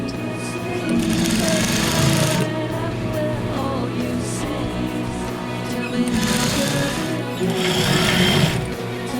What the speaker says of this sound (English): So let's go ahead and sew all the way around.